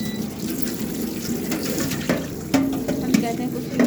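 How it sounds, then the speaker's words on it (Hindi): Warm water poured by hand, a steady close splashing wash with a few sharper gurgles and clinks toward the end. "तो ऐसे ही डाल दिया पानी"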